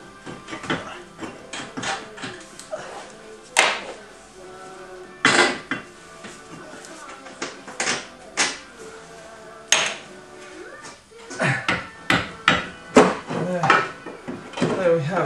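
Bolts being pulled and the top wishbone removed from the front suspension of a TVR Griffith car, a series of irregular metallic clanks, knocks and taps of tools and parts, close by and scattered throughout.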